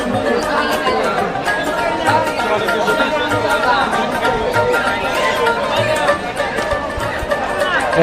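A dense crowd hubbub fills the busy Karatia haat market in Tangail, with overlapping voices and steady bustle heard up close and continuously throughout.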